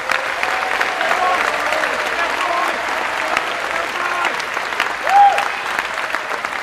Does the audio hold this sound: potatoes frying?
no